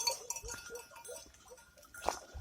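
A sheep bleats briefly near the end, a short wavering cry over quiet rustling and soft ambient noise.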